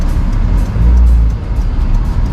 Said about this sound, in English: I want to make sure you guys listen to this engine.